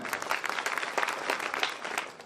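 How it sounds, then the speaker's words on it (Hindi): Audience at a Hindi poetry gathering (kavi sammelan) breaking into applause for the host, a fairly distant, soft crowd clapping with a lively, uneven texture that tapers slightly at the end. "आप उनके लिए मेरी तरफ से एक बार तालियां बजा दें"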